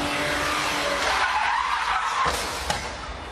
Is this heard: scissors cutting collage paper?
no